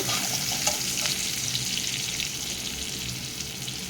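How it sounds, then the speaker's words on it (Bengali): Chopped garlic cloves sizzling in hot oil in a pan for Bengali-style masoor dal, a steady close crackle with faint scattered pops and occasional stirring. "রসুনটাকে এর সঙ্গে ভালো করে ভেজে নেব"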